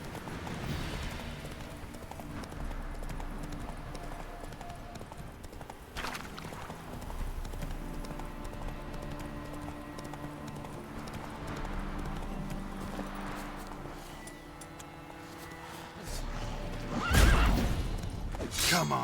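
Roach, the horse in The Witcher 3: Hearts of Stone, gallops with rhythmic hoofbeats beneath game music, with occasional whooshes and a sharp crash near the end, and some speech-like game voices at times.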